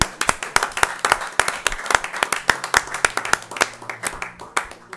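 A church congregation claps in praise to God, a dense, lively burst of many hands in quick overlapping claps, fairly close and sustained across the moment, with some voices mixed in.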